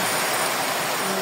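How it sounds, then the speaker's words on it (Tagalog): Floodwater rushing through Barangay May Bangkal in Morong, Rizal after heavy rain from Typhoon Mirasol, a dense, loud, steady roar of water with no break. "Rumagasa ang baha sa barangay May Bangkal sa Morong Rizal kasunod ng malakas na buhos ng ulang dulot ng bagyong Mirasol."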